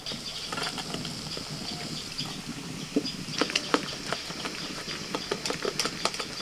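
Water drains and patters from boiled broad beans being lifted out, a soft continuous trickle with scattered drips and small splashes close by.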